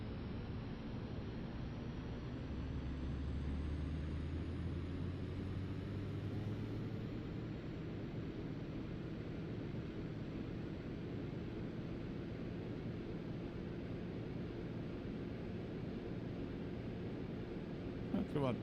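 Engine power of a Daher Kodiak aircraft in X-Plane 12 being brought up slowly with flaps set: a continuous droning rumble with a faint tone rising in pitch, a voice talking over it.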